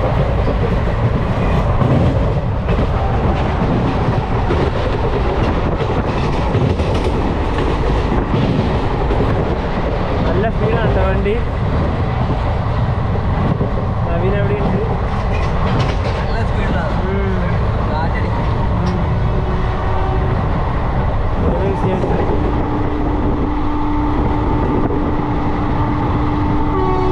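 Heard from aboard the West Coast Express near Arakkonam, another train rumbles past loudly and steadily, with wheels clattering and a long, sustained horn blast.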